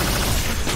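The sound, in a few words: Iron Man proton cannon blast in a Marvel video game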